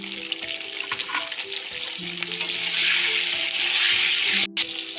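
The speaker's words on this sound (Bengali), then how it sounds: "এবার আমি পটলগুলো ভেজে নেব।" Pointed gourd (potol) pieces frying in hot oil in a wok, a dense continuous sizzle with crackling pops and short tonal clinks, close and fairly loud.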